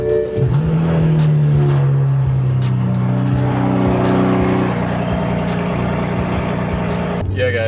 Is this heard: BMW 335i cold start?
yes